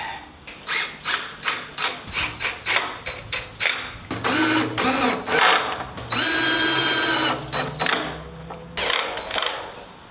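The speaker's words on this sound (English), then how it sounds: "Now I can screw the rest of this in." A cordless drill drives screws into a new workshop door, with a string of short revving bursts followed by longer sustained whirring as the screws seat. The sound is close and loud, and no one talks.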